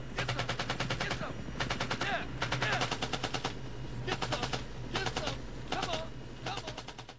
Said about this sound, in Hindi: बकी उसको ऊपर उठा लेता है और वो आसपास गोलियां चलाते हैं, लेकिन वो जब गोलियां चला रहा था